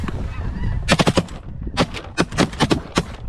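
Shotgun blasts fired at snow geese during a Saskatchewan hunt, a rapid string of loud, sharp shots in two bursts, mixed with honking geese close overhead.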